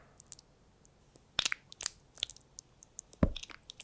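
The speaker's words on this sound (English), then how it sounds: "This AI video is a woman eating a planet. Crunchy." Crunching and biting sounds accompany AI-made footage of a woman eating a planet. Scattered crisp crunches and sharp bites stand out close and fairly faint, with a heavier crunch near the end and no one speaking.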